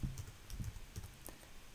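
Soft, quick keystrokes tap out on a computer keyboard, a handful of light clicks in an uneven rhythm, quiet and close by.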